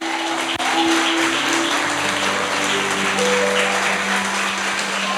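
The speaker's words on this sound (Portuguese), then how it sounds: "Você pode aplaudir ao Senhor por esta palavra?" Congregation in a Portuguese-language church service applauding, dense sustained clapping throughout with a musical tone underneath and little speech.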